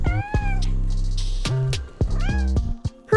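A cat meows loudly twice, each meow a drawn-out, wavering cry over cheerful background music in a farm-animal learning game.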